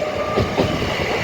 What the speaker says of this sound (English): departing with the service off to Leeds from London King's Cross